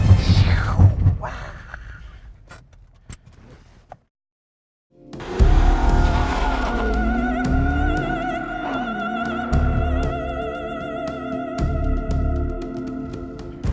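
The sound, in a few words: Nissan 370Z Nismo braking hard, tires squealing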